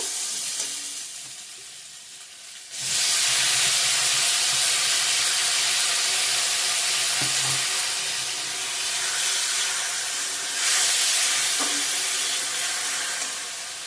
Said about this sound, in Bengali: ভালো করে ভাজা ভাজা করে নিয়েছি এখন শেষ করা টমেটোটা দিয়ে দেবো